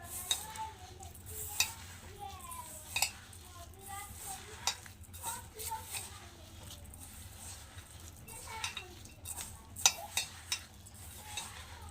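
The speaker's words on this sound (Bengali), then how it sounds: "এবার এই চিনি সুজি আর কলা একসঙ্গে একটু মেখে নেবো" Sugar, semolina and banana stirred together into malpua batter in a bowl, a steady close mixing with soft scraping and occasional clinks of a utensil against the vessel, over a low background hum.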